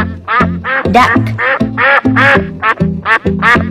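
A cartoon duck quacks in a rapid, loud string of about a dozen nasal honks, close and continuous, with no talk over it.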